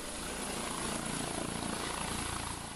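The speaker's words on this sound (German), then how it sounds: "Gleich mehrere Hubschrauber starten Richtung Ostdeutschland." Police helicopters take off, their rotors and engines producing a dense, steady whirring roar with a rapid rhythmic chop, fairly faint and heard without talk.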